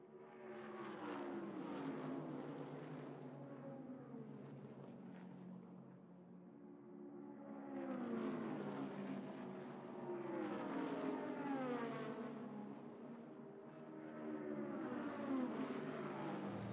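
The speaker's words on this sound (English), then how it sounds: "we got airplanes above" Airplanes flying overhead in the Cars 3 Driven to Win racing game, droning propeller engines that swell and fade in repeated passes, loud and continuous with no talk.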